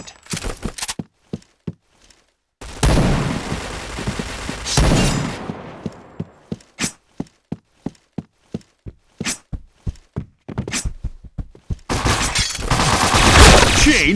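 Gunfire in an online clan-war video game comes as sharp single shots in a quick rhythm, with bursts of louder, dense firing and impacts between them.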